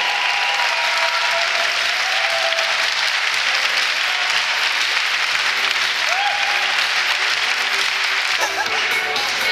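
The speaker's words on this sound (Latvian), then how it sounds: "Aplausi jauniešiem!" Sustained audience applause in a hall for young champions of a ten-dance ballroom and Latin competition in Jelgava, a dense even roar of clapping with faint music underneath.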